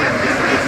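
Ducks quack in a short, dense burst on a road in Hoi An, Vietnam, the calls close and overlapping as the flock crosses with its herders.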